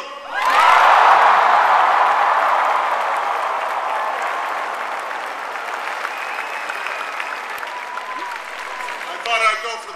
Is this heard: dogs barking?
no